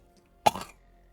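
A voice imitates a single short, sharp cough, close and clear, in an otherwise quiet moment during a Pathfinder tabletop session.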